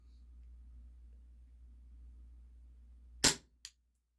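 WE Tech Bulldog airsoft gas blowback pistol firing 0.20 gram BBs on green gas: one sharp, loud pop, then a brief mechanical click, with silence after.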